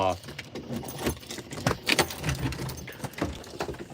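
Keys jangle and clink close by in a loose, irregular rattle, with a person talking over them.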